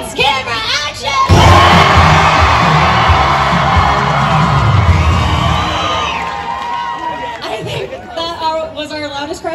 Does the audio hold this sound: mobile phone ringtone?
no